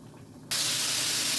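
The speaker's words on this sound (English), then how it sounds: "Look at that pork chop sizzle." A sudden loud sizzle as a pork chop hits hot frying oil, a steady bright crackling hiss that continues close up.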